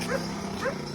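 A dog outdoors on an evening walk barks twice in quick succession, two short, fairly close woofs about half a second apart over light background noise.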